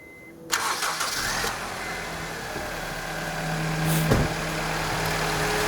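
A Honda CR-V engine cranks and catches, then settles into a steady, rumbling idle close by with a brief rev partway through.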